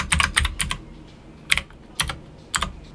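A few short bursts of typing on a computer keyboard, close and crisp, with clusters of key clicks separated by brief pauses and no talking.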